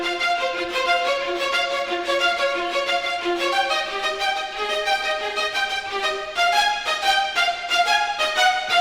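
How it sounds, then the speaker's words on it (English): Orchestral strings from a Final Fantasy VII battle theme arrangement, violins repeating a short, detached ostinato figure with steady driving rhythm, full and sustained at moderate loudness throughout, no voices. "the violins are doing this ostinato that I love"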